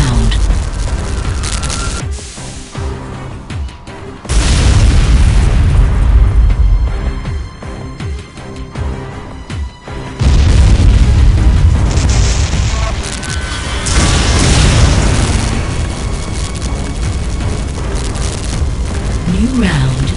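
Several loud, booming explosions go off in Unreal Tournament 2004 amid a generator being destroyed, with sustained rumbling blasts and surrounding combat noise.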